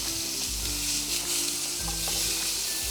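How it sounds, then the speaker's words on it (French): Steak frying in butter with rosemary in a pan, a loud continuous sizzle with soft crackles and occasional low bumps of movement, heard close with no talking. "je vais laisser cuire 3 minutes de chaque côté environ à surveiller"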